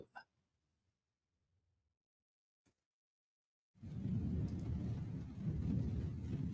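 A thunderstorm effect from a hurricane-season radio advertisement rises suddenly after near silence as a loud, dense roar of rumbling thunder and heavy rain that continues steadily to the end.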